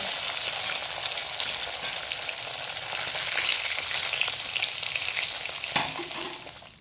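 Shol fish (snakehead), slashed across the body, frying in hot oil with a loud, dense, continuous sizzle close up; one brief knock comes near the end before the sound eases off.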